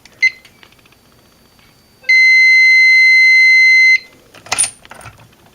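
A fire alarm system annunciator gives a short chirp, then a loud, steady electronic tone for about two seconds that cuts off, followed by faint handling clatter.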